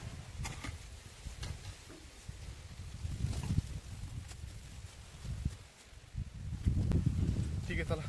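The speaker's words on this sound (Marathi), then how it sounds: "वारा वाढलं त्याच्यामुळे तिच्यात उडते" Low, gusty wind buffets the microphone throughout, rising and falling in rough rumbling bursts.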